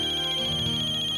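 A mobile phone ringtone plays loud and close, a bright repeating electronic melody that starts abruptly and continues without any speech over it.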